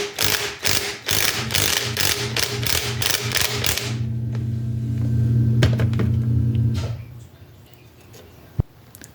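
Ratchet clicking while loosening a reverse-threaded sprocket nut on a custom 48V 2000W electric scooter, a fast close run of about a dozen sharp clicks followed by a low whirring hum and a few knocks.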